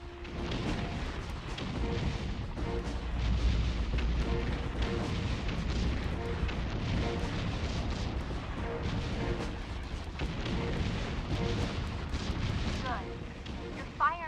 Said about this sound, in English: Destroy all the targets with your rockets.